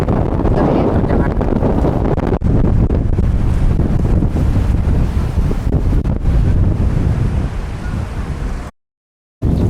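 Strong wind buffets the microphone on a seaside beach at Pantai Madasari, Santolo, Pangandaran, with roaring gusts and surf underneath; the sound cuts off abruptly near the end.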